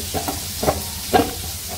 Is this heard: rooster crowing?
no